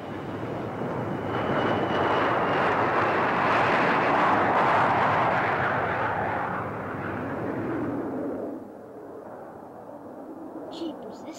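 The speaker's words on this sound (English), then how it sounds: "If I didn't know I was in a plane, I wouldn't even know I was flying." A passenger airplane in flight gives a loud, broad engine roar that swells, holds, then drops away toward the end.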